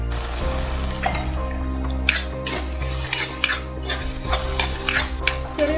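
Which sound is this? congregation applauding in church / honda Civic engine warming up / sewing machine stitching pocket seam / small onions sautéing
small onions sautéing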